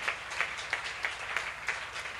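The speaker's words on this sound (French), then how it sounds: "On va acclamer pour le roi des rois" A church congregation claps to acclaim Christ as King of Kings, a steady crowd applause with a few sharper rhythmic claps roughly every third of a second.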